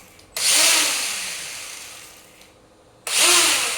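A small RC drag car's electric motor revs to full speed in two sharp, loud bursts of high-pitched whine, each ramping up abruptly and then winding down, heard close with no speech.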